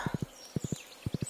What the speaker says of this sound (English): let's grab our horse